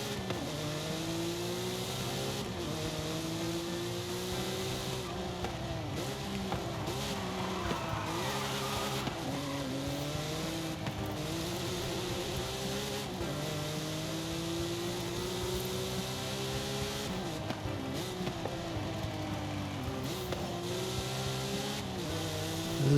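A 1995 Porsche Gunther Works racing in Forza Horizon 5, its engine droning steadily and rising and falling through gear changes, with brief tire squeal, loud and continuous throughout.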